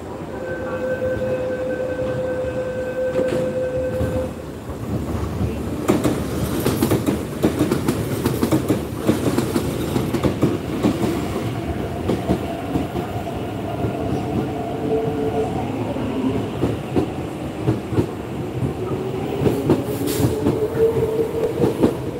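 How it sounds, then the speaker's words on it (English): An East Rail Line train passes through a station, rumbling and clattering with rhythmic wheel clicks and a few squeals, loud and close after a short stretch of steady tones, no talking. "Oh, there's another R train."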